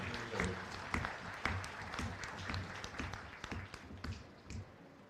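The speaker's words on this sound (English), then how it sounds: "give them all a nice round of applause" A crowd gives a round of applause for the young exhibitors at a county fair beef show. Scattered claps swell into steady clapping that tapers off toward the end, with a faint voice in the background.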